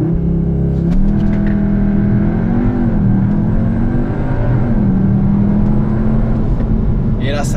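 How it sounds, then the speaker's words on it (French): Engine of a 310 hp Cupra Formentor inside the cabin during a launch control run, a loud, steady drone whose pitch climbs, dips and climbs again through gear changes, filling the clip continuously. "La voiture est dotée d'un launch control, je vais vous le montrer tout de suite."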